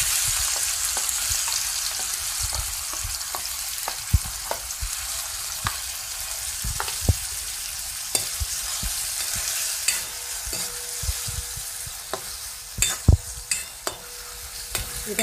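Chopped tomato and onion with green chilli fry in mustard oil with a steady close sizzle, broken by frequent sharp scrapes and knocks of a spoon stirring in the pan.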